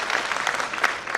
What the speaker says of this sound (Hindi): जोरदार तालियां बजाकर उसका मनोबल बढ़ाइए।